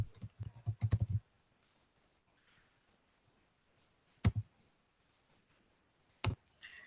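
Computer keyboard keystrokes and mouse clicks while making a new folder, a quick burst of several taps at the start, then two isolated sharp clicks after long quiet gaps.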